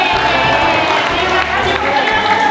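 A crowd at a Teachers' Day celebration cheers and claps for team KSD, a loud dense mix of shouting, whoops and applause close by, with voices mixed through it.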